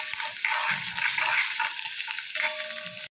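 Curry leaves and garlic sizzle and crackle steadily in hot oil for homemade misal pav, a dense frying hiss that runs unbroken until a sudden cutoff at the end.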